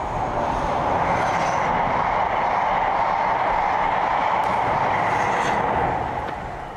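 A pygmy flute imitates a passing train, a steady breathy rushing tone with a rhythmic chugging texture, sustained and fairly loud throughout before easing off at the end.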